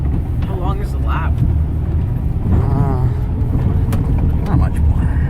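An offroad vehicle driving slowly around a quarry lap, its engine rumbling steadily close by from start to finish while people talk over it.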